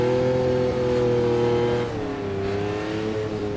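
A McLaren F1 engine in the Automobilista racing game revs high and steady while the car slides on snow. The loud, close engine tone dips and shifts pitch partway through, with no speech.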